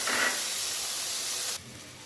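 Ground poppy seed paste hits a hot pan already tempered with black cumin, giving a loud, steady hissing sizzle that holds for about a second and a half, then drops abruptly to a quieter hiss.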